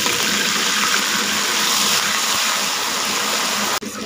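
Water poured into a hot cooking pan of oil with ginger and garlic, a steady loud gushing, sizzling rush that runs continuously for about four seconds before cutting off abruptly near the end.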